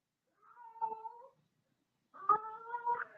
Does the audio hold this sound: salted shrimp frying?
no